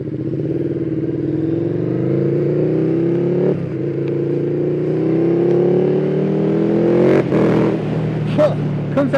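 A 2020 KTM 1290 Superduke R with an Akrapovic exhaust accelerates hard through two rising pulls with a gear change between, its deep, rumbling engine tone climbing steadily and loud throughout, with brief voices near the end.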